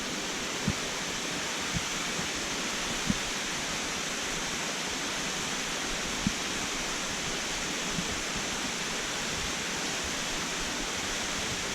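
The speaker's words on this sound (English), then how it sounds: "There's the waterfall up there." Waterfall along an easy hiking trail in western North Carolina, a steady broadband rush of falling water heard from a distance, unbroken throughout, with a few faint footstep-like taps.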